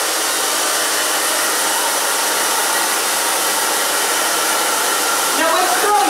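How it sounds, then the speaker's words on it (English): A hair dryer blows steadily and loudly, close up, while drying a chunky bob haircut, a continuous airy roar that holds throughout and shifts slightly near the end. "now we're going to blow dry"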